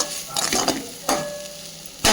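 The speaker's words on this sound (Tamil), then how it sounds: "இஞ்சி பூண்டு பேஸ்ட்டு போட்டு அதனோட பச்சை வாசனைலாம் போகிற அளவுக்கு நம்ம நல்லா வதக்கி விட்டுறணும்." Ginger garlic paste sautés in a hot pan, a steady sizzle broken by a few sharp scraping stirs, close and loud with no talking.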